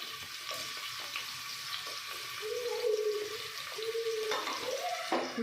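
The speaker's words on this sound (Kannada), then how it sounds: "ಫುಲ್ ಸಾಫ್ಟ್ ಆಗೋವರೆಗೂ ಚೆನ್ನಾಗಿ ಫ್ರೈ ಮಾಡ್ಕೋಬೇಕು" Chopped big onions frying in hot oil in a pressure cooker, a soft steady sizzle with occasional stirring scrapes, fairly quiet and close.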